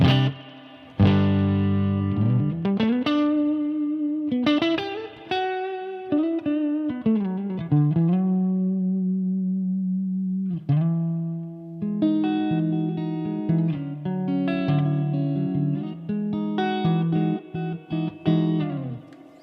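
A BluGuitar Amp 1 with reverb set around 8 carries distorted electric guitar playing sustained notes and bends, reverb tails ringing after each phrase, loud and close, with a brief pause midway.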